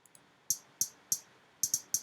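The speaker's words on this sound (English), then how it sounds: "Let's say originally this hi-hat sounds like this." Hi-hat sample for an audio mixing EQ demonstration, a series of short crisp metallic ticks struck in a loose rhythm, about eight hits, quiet and dry with nothing else around them.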